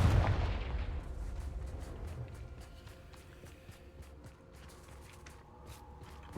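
A Confringo blasting spell goes off in Hogwarts Legacy as a loud burst at the start, then fades into a rumbling game background with faint scattered effects.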